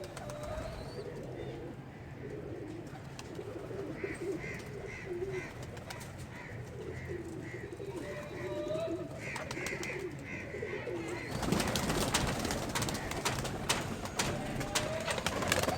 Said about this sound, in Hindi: मैं बाकी इस कबूतर को पकड़ लूँ थोड़ा सा